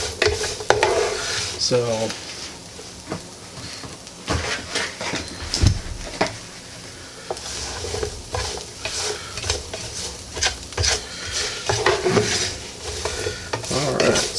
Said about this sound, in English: And just get that good and stirred in there.